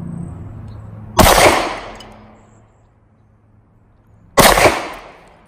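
A semi-automatic handgun fires two sharp, loud shots about three seconds apart outdoors, each followed by a brief decaying echo.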